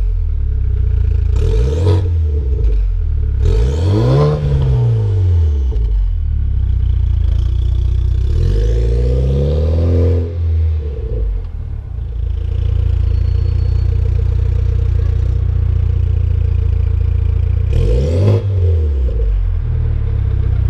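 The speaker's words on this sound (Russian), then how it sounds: "к выхлопной системе, я думаю, претензий ни у кого нету, да, то есть звук реально хороший" A 245-horsepower BMW 528i xDrive engine revs repeatedly through its exhaust, with loud rising and falling blips separated by a steady idle, close to the microphone.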